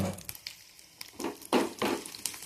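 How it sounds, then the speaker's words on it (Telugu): Cashews and almonds frying in a pan for milk rice, with bursts of sizzling and crackling rising and falling as the nuts are moved, close and fairly loud. "గోల్డెన్ ఫ్లేవర్ వచ్చే వరకు వేయించుకుందాం"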